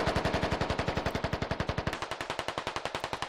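Sustained automatic gunfire laying down suppression in the Squad video game, a rapid, evenly spaced stream of about thirty sharp reports over a few seconds, the tone shifting slightly partway through as the shots strike a wall.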